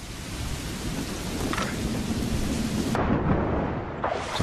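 Heavy rain pours steadily in an Assassin's Creed Rogue game scene set in Lisbon, with loud rolling thunder rumbling close throughout and a brief lull before the downpour surges back.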